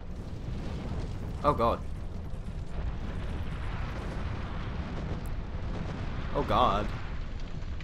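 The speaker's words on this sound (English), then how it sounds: "Oh, I set fire to that, didn't I?" Flames flaring up twice in Dark Souls 2, each a short whooshing burst over a steady game background, with a player's voice reacting in between.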